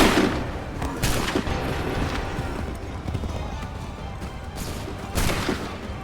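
Loud sharp bursts of a musket volley crack out in Assassin's Creed 3 Remastered, with a burst near the start, another around one second, and a final pair near five seconds over a busy battlefield rumble.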